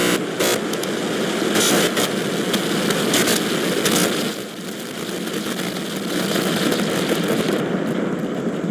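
SpaceX Starship rocket engines roar at liftoff as a steady, dense, loud rumble that fills the whole stretch with a crackling edge and only slight swells, with no voices heard over it.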